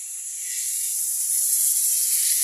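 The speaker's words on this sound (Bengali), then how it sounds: "আমি মাছটা ভেজে নিই" Koi fish frying in hot oil, a steady, loud hiss of sizzling that holds evenly and swells slightly, with no voices.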